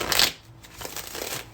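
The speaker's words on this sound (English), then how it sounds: "I'm shuffling this deck." An Infinite Love tarot card deck is shuffled by hand, giving a brisk riffling burst followed by softer papery slides and taps, close up and without speech.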